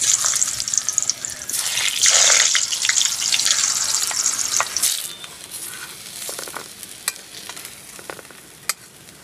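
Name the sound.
taro (elephant foot yam) pieces frying in oil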